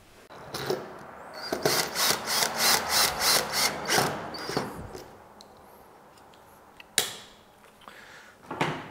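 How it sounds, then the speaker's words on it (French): A handle is screwed onto a window sash during a container-house window install, with a run of rhythmic rasping screwdriver turns and then a few sharp knocks, close and clear. "on va venir visser la poignée"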